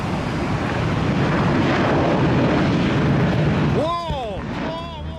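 A passenger airplane readies for takeoff with a tire on fire, its loud steady engine roar filling the air throughout before a high rising whine and harmonic tones cut in near the end.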